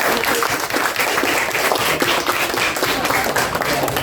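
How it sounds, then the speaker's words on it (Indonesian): Classroom applause from a group of students, a steady dense clapping that fills the room at close range for several seconds without pause. "berikan tepuk tangan dulu"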